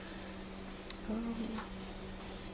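Feeder crickets chirp in a reptile room, giving a few short, high, intermittent trills over a low, constant electrical hum.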